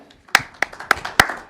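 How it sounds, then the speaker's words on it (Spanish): A few slow, distinct hand claps ring out close up, about five sharp claps spaced evenly at a church service, as a small start of applause. "Podemos dar un aplauso por ese concepto"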